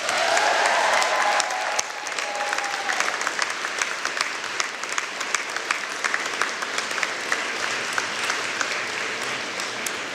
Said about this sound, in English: reciprocate by applauding your family, friends, faculty, and staff, and all of those who have helped you reach this goal